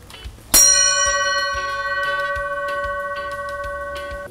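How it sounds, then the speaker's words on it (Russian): An old copper bell is struck once, loud and close, then rings on with a long, steady, slowly fading tone. Faint low rumbles sit underneath. "звоне медного колокола"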